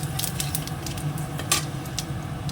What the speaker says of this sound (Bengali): এবার তেলে দিয়ে দেবো হচ্ছে 2 শুকনো লঙ্কা, একটুখানি জিরে